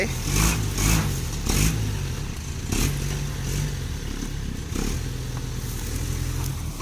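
A tractor engine drones low and steady while backing a combine harvester trailer through a narrow lane, revving up in several rough bursts with clattering mechanical noise, close by.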